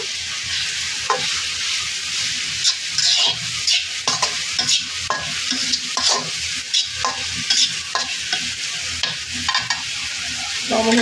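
Chopped jackfruit seeds fry in a pan, stirred repeatedly, so a constant bright sizzle is broken by regular scraping strokes of the spatula against the pan. It is close and loud throughout, with no voices.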